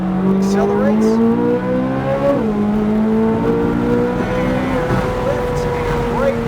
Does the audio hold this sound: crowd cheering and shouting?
no